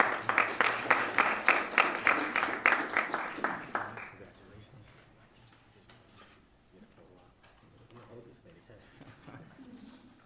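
A small audience at a STEM and innovation welcome reception applauds Don for about four seconds in a brisk, fairly loud burst that stops abruptly, followed by quiet room tone with faint talk.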